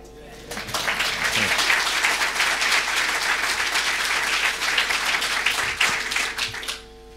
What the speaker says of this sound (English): we'll see if there's someone else who's going to get just as big a clap as yourself after that